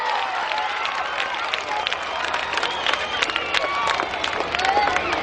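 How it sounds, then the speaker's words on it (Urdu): An audience at a Solapur Urdu school award event applauds for M.A. Pangal Urdu High School, a dense, loud burst of clapping with cheering and crowd babble mixed in, sustained throughout. "زوردار تالیاں"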